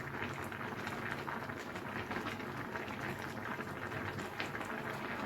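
A pot of carrots, potatoes and drumstick pieces bubbles at a steady simmer, a dense continuous fizzing and popping close up, fairly quiet and without voices.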